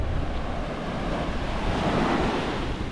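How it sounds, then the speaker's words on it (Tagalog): Ocean waves roll and wash continuously onto the shore at Pompano Beach, Florida, a close, steady surf roar mixed with wind buffeting the microphone, with no voices. "Malapit tayo dito sa alon."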